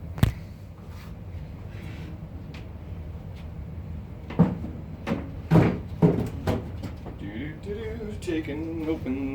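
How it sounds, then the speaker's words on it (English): Servicing a Paragon pinball machine: sharp clicks and metallic clunks as the coin door opens, the lock bar comes off and the playfield is lifted, scattered bangs amid rattling, with someone talking throughout. "Opening the coin door. Taking off the lock bar. Removing the ball. Lifting the playfield."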